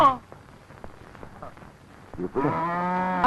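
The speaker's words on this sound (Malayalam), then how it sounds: "എന്തിനാടോ പശുവിനെ അഴിച്ചു വിട്ടത്" A loose cow lows loudly and near in a long, sustained moo at the end, after a stretch of quieter background noise and shuffling.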